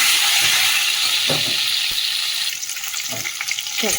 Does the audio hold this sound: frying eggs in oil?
yes